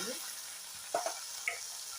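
Chenchali greens are being fried in a pan, giving a faint, steady sizzling hiss with a few soft pops and stirring clicks.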